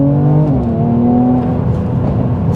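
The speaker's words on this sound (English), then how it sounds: "so that really enhances the sound of the exhaust" A 400HP Mercedes C43 AMG accelerates on a wet road lined with trees, its exhaust a loud, close, steady drone whose pitch shifts as it pulls hard, with no talk over it.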